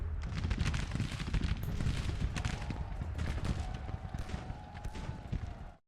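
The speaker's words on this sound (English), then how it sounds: "Why are they still firing at you?" Massed musket volleys from Grand Tactician: The Civil War, a dense continuous crackle of many overlapping shots with low rumbling booms, loud throughout before cutting off abruptly.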